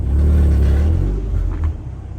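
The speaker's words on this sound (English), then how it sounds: "I actually kind of like my exhaust note" A Mazda MX-5 Miata exhaust note as the car is being parked, a loud, close, steady low rumble that swells briefly and then eases off over about two seconds, with no talking.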